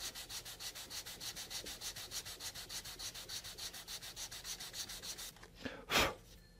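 Hand sanding the end grain of a wooden console table board, a steady rhythmic back-and-forth rasp of paper on wood that stops near the end, followed by a brief louder scrape or thump.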